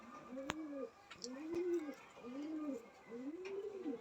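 Pigeons cooing in a Madrasi breeding loft: four rolling, evenly spaced coos fill the space at close range, with a couple of sharp clicks and faint background chatter in between.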